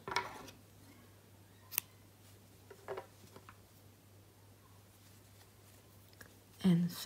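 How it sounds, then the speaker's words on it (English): Scissors cut crochet yarn in a quiet room, giving a couple of soft, close snips spaced apart over a faint background hum. "First, I will cut my yarn."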